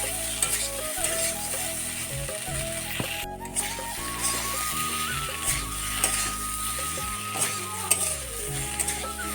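Potatoes frying and stirred in a pan for a home meal, a steady sizzle with repeated scraping strokes running throughout, fairly close with no talking.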